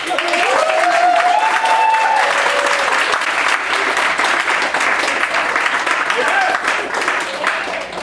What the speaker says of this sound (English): Y'all gotta give her a round of applause.